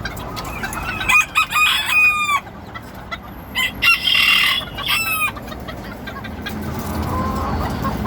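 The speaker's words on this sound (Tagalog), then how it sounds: "Ngayon magpapakain tayo ng mga bantam." Bantam chickens cluck in a busy flock during feeding, with bursts of close, overlapping calls that fade to quieter background clucking toward the end.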